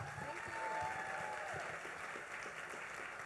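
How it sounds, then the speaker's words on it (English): An audience at a real estate masterclass in Orlando applauds for Beth Hobart. The clapping is a steady, fairly quiet wash that lasts throughout, with some voice-like sound mixed in. "Let's give a giant round of applause to Beth Hobart."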